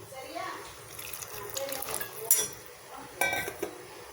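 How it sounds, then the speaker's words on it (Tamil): A small pour of water into a pan of simmering mushroom salna, with light splashes, a clink of a spoon or pan and a few sharp metallic knocks, fairly quiet and close, in a home kitchen. "மஷ்ரூம் சீக்கிரம் வெந்துடும், அதனால் கொஞ்சமாக தண்ணி ஊற்றி பார்த்து."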